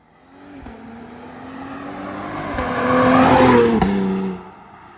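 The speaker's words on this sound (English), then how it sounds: "Donnie, did you hear the supercharger whining?" A supercharged V8 Cadillac CT5-V approaches and roars past, engine swelling loud with a high supercharger whine, then cuts off sharply as it shifts and recedes.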